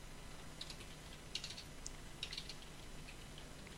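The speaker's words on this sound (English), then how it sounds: "I can hear you typing in the background, Caesar" Faint, scattered keyboard clicks from typing on a computer keyboard sit quietly in the background of a League of Legends match broadcast, under a steady hiss.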